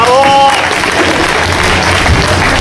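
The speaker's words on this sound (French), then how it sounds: "je pense qu'on peut applaudir vraiment tous ces bénévoles" Crowd applause for race volunteers at a mountain trail event, dense and loud throughout, with a few cheers and voices mixed in.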